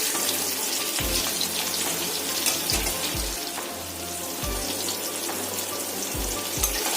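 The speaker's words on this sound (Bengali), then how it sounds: "কাঁকরোল ভাজা হতে একটু সময় লাগে, সেই জন্য আমি ভালোভাবে নাড়াচাড়া করে কাঁকরোলগুলোকে লাল করে ভেজে নেব" Pieces of spine gourd (kakrol) fry in hot oil with a continuous loud sizzle, broken by several dull knocks and scrapes as they are turned in the pan, with no talking.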